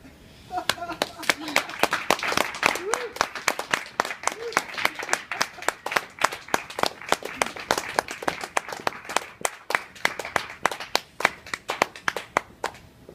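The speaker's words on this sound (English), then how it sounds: "Let's get one more round of applause for Samiya, Aishah, and Jen, who read for us tonight" An audience at an evening poetry reading applauds, dense rhythmic clapping from many hands filling the room steadily for several seconds, with a few voices calling out faintly beneath it.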